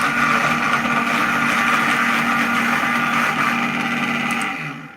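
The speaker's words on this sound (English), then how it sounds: "Variable 5, and we're going to just get straight on and chop this onion" Vitamix 750 blender chopping an onion at variable speed 5, a loud steady motor whir with churning texture that runs evenly and then winds down at the end, with no voices.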